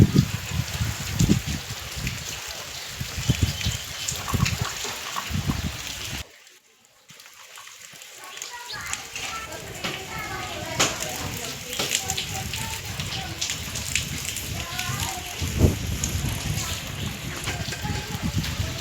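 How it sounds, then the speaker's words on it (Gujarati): Heavy rain pours steadily in a village during hot weather, a dense close roar of drops hitting surfaces that dips briefly and then returns as strong as before. "વરસાદે બહુ જોરદાર આવી ગયો."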